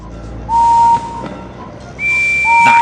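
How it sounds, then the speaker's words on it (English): Train whistles in a Thomas & Friends video game: two clear, steady toots, a shorter one followed by a longer, higher blast, each sounding alone and loud. "One of these whistles sounds like Henry's."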